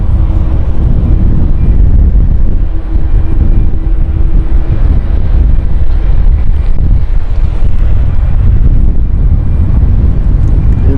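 A passenger airplane on the Ibiza flight approaching to land at London City Airport, with gear down, producing a loud, continuous, low roar mixed with wind buffeting at the microphone, steady throughout with no talking.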